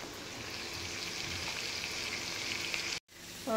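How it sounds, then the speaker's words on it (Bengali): Peas, onion and carrot frying in a pan, a steady close sizzle that runs without a break and then cuts off sharply near the end before resuming briefly. "মটরশুঁটি, পেঁয়াজ, গাজর দিয়ে এটা ভেজে নিয়ে তারপরে করব।"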